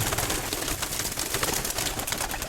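Pigeons in a loft, with soft cooing lost in a dense, hissing wash of noise, steady and close throughout, with no voices.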